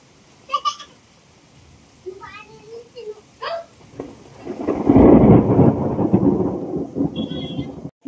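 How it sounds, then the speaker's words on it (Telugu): A thunderstorm during an hour of nonstop heavy rain: a loud rolling rumble of thunder swells through the middle and slowly fades, with steady rain beneath and a few brief sounds before it. "చూసారుగా ఉరుములు మెరుపులు."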